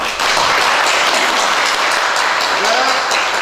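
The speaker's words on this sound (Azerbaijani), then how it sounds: "Və elə gəl ki, alqışlamaq lazımdır." Audience applause at an academic conference hall, dense sustained clapping from a crowd, loud and continuous with a voice faintly mixed in.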